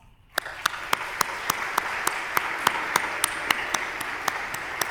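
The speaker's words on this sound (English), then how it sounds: "please stand up and receive a round of applause" A lecture-hall audience applauds at a scientific society's presidential address, a steady wash of clapping that starts abruptly and holds at moderate level, with sharp regular ticks cutting through it.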